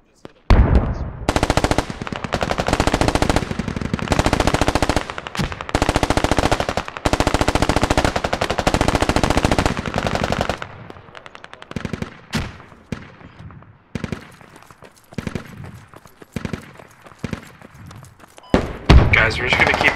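Machine gun fire in the tactical shooter game Squad, with loud, close sustained bursts over the first half, then sparser scattered shots and thuds, while players talk over the gunfire.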